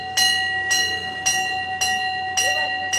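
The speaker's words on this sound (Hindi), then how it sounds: "घंटी" A temple bell at the Shri Rameshwar Mahadev temple in Ujjain rings loudly and close, struck about six times at an even, unhurried pace, each clang ringing on into the next.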